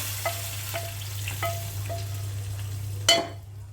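Fried onions are stirred into boiled masoor lentil dal with raw mango in a pan, giving a soft, steady sizzle with a few light scraping strokes and one sharper clatter near the end.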